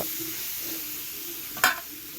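Vegetable curry with turmeric sizzles steadily in a pan, a soft continuous hiss with one sharp scrape of a utensil near the end; no talking.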